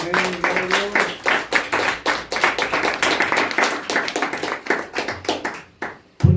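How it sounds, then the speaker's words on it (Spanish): A church congregation claps as an offering to the Lord, rapid crisp hand claps repeating in a steady driving rhythm, loud and near with no talk over them. "Dame una ofrenda de palmas al Señor"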